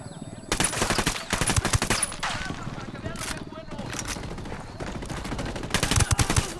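Bursts of automatic gunfire in Ghost Recon Wildlands, several loud rapid volleys with short gaps between them, set against the game's background sound.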